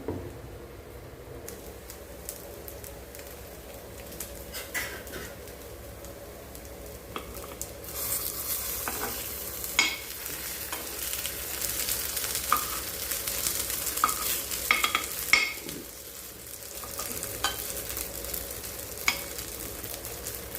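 Sago cutlets fry in oil in a pan with a continuous, moderate sizzle. Occasional scraping and tapping sounds come from turning them, and the sizzle grows slightly louder partway through.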